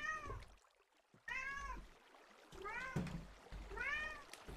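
A pet cat meows repeatedly, four rising and falling calls in a steady sequence, close and moderately loud, with faint room noise between them during a home gaming session.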